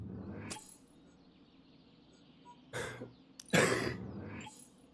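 Three rough, throaty coughs from a person with an abscess rise out of a quiet room, the last one loudest and followed by a breathy trail.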